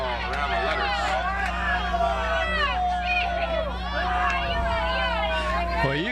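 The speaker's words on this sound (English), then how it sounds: "the crowd over on this side is partial to the Bruins. They didn't like that call." Softball crowd at a high school girls' game between the Kecoughtan Lady Warriors and Bethel Lady Bruins, a steady hubbub of voices and children's chatter reacting to a strike call, with loud, continuous murmuring throughout.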